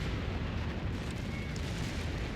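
Distant artillery fire in a Company of Heroes 3 four-versus-four battle on Monte Cavo, a continuous low rumbling barrage of muffled booms blending together at moderate volume.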